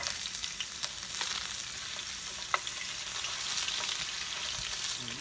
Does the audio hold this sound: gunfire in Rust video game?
no